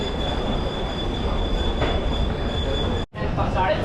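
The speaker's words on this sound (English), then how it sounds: "This could be our train arriving now" A train rolls into a railway station platform in Varanasi, India, with loud, steady squealing of wheels on rails and a sustained high whine, broken by a brief dropout near the end.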